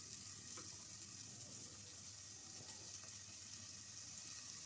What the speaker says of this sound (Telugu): ఈ ఉల్లిగడ్డలు కొంచెం ఫ్రై చేసుకోవాలండి.